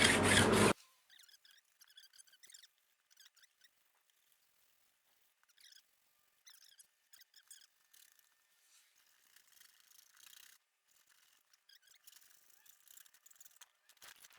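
Hand file beveling the edge of Formica laminate: a sudden loud burst at the start, then a series of quiet, close, scratchy rasping strokes in short irregular bursts with pauses between them.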